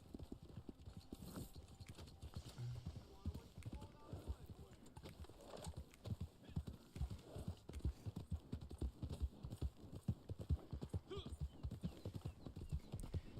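Horse hooves clip-clop in a steady, fairly quick rhythm in the Western video game Red Dead Online, a close, continuous patter of hoofbeats at a moderate level.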